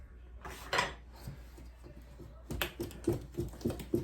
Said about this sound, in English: So let me mix up this egg mixture again.